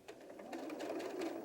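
A sewing machine stitches doll clothes around a tight curve, giving a short, steady mechanical whir with quick stitch pulses, close and alone.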